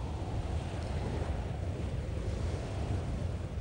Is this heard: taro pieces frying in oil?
no